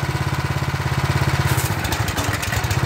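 A Simpson 4000 psi pressure washer's small gasoline engine runs close by with a rapid, pulsing chug that loses its steady rhythm and turns rough partway through.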